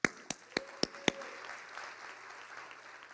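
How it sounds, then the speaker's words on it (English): Applause at an awards luncheon opens with a few sharp, distinct claps, then fades into a soft, scattered patter from a room of listeners that stays faint and distant. "deserve a round of applause"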